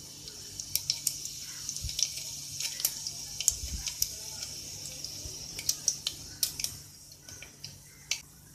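Cumin seeds dropped into hot oil with lightly browned asafoetida crackle and pop in sharp, scattered bursts over a soft continuous sizzle, close by, with no talking.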